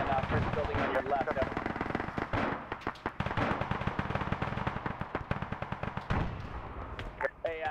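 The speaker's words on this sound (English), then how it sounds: "we are taking fire from that first building on your left" Rapid, dense gunfire and explosive cracks in the military game Arma during an airfield seizure, near and loud, continuous volleys with many sharp reports, under occasional radio talk.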